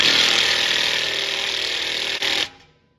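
An impact wrench spins continuously on a stabilizer bar link stud of a 2012 GMC Terrain, a loud high whirring buzz with one tiny hitch that cuts off abruptly near the end.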